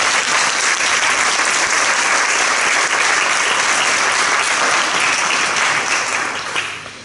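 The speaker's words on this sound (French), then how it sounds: "vous pouvez déjà l'applaudir" An audience applauds loudly and steadily at a Sainte-Cécile concert in Arleux, a dense continuous wash of clapping that fades slightly at the end.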